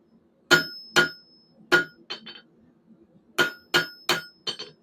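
Hammer blows ring on hot steel being flattened for a forged fire poker, a close, sharp, irregular series of about eight loud metallic strikes, some in quick pairs, with light clinks between.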